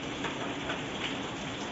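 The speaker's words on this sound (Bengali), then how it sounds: "বাবা কত বৃষ্টি পড়ছে," Heavy rain pours steadily just beyond a balcony, a dense, even roar of falling water with no breaks and no voices.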